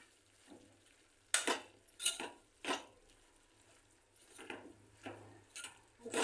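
Spoon mixing broad bean curry with chili powder and salt in a metal pan: repeated scraping and clinking strokes in an uneven rhythm, close and fairly quiet, with no voices.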